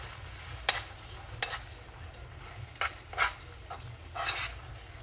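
Spinach sautéing in a pan for a creamy mushroom sauce, a soft steady sizzle under a low hum, broken by several short scraping stirs of a utensil against the pan.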